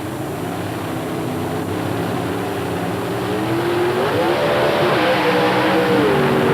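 IHRA Pro Stock drag racing cars launch off the line, a loud sustained engine roar that swells and rises in pitch as they accelerate away.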